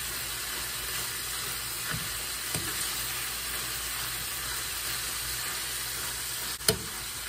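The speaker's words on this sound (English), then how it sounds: "I sauteed it with nothing, just to remove the oil of the beef" Ground beef sautéing in a pan with no added oil gives a steady, close sizzle and hiss throughout, broken by a few soft scrapes and one sharp clack near the end.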